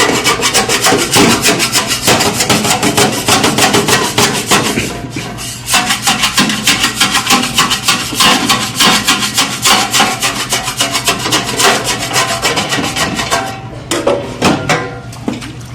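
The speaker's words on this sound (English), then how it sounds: "take your scraper, and it should majorly all come off" A scraper works residue off the surface of a Duke broiler in fast, loud, repeated rasping strokes, close and continuous with brief pauses, no voices.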